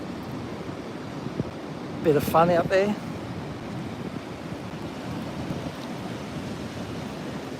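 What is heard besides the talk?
ocean waves rolling in at Snapper Rocks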